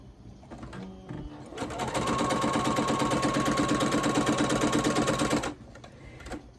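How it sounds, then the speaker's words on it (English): A sewing machine stitches corner to corner across blue flying-geese quilt pieces for a basket quilt, running as a fast, even mechanical rattle for about three and a half seconds before stopping. "sew corner to corner down the middle of the blue"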